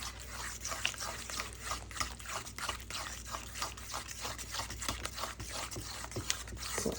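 Banana and sugar fritter mixture stirred in a bowl, giving soft, wet, squishy strokes in a quick steady rhythm, fairly quiet and close, with no talking.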